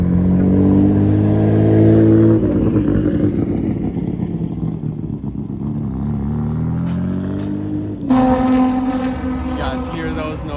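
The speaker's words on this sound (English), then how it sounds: "legendary GTR rolling through" A Nissan GT-R rolls past at a car gathering at Laguna Seca, its engine a loud, steady drone that swells, eases off, then rises again near the end, with wind noise throughout.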